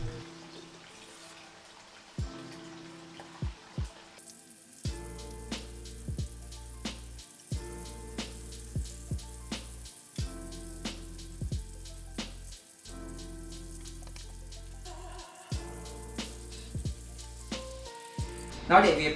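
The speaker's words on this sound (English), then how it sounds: "In a pot, add oil and fry meatball for about 8 minutes till deep golden brown." Tofu chicken meatballs deep frying in a pot of oil, a steady quiet sizzle broken by sharp crackles and pops, with brief near-silent gaps in the early stretch.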